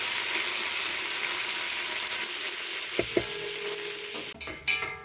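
Mint leaves fry in a pan for a prawn pulao, giving a steady close sizzle that fades near the end, where a few utensil clinks and scrapes come through.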